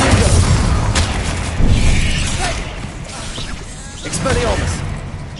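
Explosive Confringo spell blasts in the wizarding game Hogwarts Legacy, a dense run of booms and whooshing impacts layered with battle noise while a voice calls out spells.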